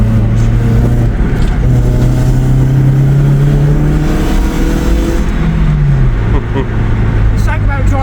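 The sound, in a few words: Skoda Felicia engine revving, diesel exhaust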